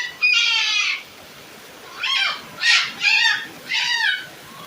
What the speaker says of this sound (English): And Clovis, he's over there screaming